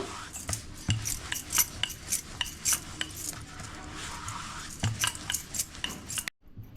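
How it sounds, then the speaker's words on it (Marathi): Fenugreek and flour puri dough is rolled out thin with a rolling pin, giving repeated soft knocks and rubbing strokes against the board in a steady back-and-forth rhythm. "आता आपल्याला अशी लाटून घ्यायचे सर्व"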